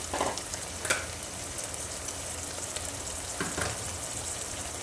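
Thick potato slices go into a hot pan and give a soft, continuous sizzle, with a few brief clatters as they land and are stirred. No one talks.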